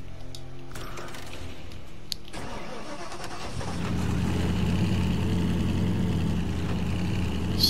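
A Baja Bronco FD-69 TTC engine starts in the video game Snowrunner: a quiet idle-free stretch, then a cranking catch and a steady, droning mid-pitched engine hum that holds loud and close to the end.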